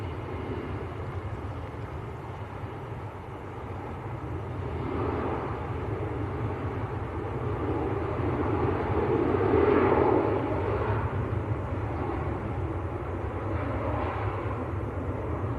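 Finnair airliner departing Manchester Airport for Helsinki, a distant broad jet roar that swells gradually to a peak and then eases off, steady and alone.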